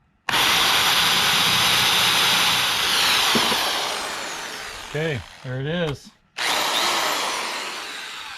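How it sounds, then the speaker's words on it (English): A power drill bores through a plywood or pine board base inside a truck being built out, whining loudly and steadily for several seconds, then slowing and stopping with a few short bursts, with a brief voice over it. "Just gonna try to drill a hole, I guess, through that plywood."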